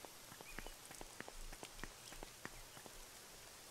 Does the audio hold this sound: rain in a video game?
yes